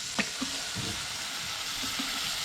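Onions frying in a pan hiss softly and evenly, broken by a few faint clinks and light stirring taps.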